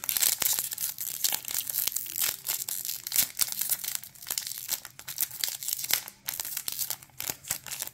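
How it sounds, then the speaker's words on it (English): Trimming the tops off 2023 Bowman Platinum baseball card packs, with close, crackly foil crinkling and tearing in irregular bursts throughout, and no talking. "Just trim the tops off of these to get these out."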